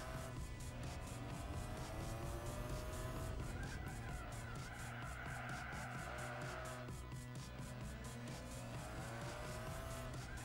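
Rally car with a turbocharged engine racing in Gran Turismo 4, roaring loud and steady throughout with rising and falling revs through gear changes and some tire squeal, no pauses.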